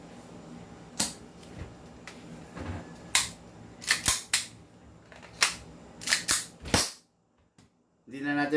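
A CyberGun Fly Girl 1911 gas airsoft pistol fires a string of sharp, loud cracks in uneven bursts, close up, then a pause and a brief voice near the end.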